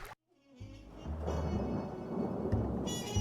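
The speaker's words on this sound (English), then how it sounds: "The storm raged on and on." A stormy night with thunder and heavy rain, loud and continuous after a brief silent gap at the start, with a low rolling rumble throughout and no voices.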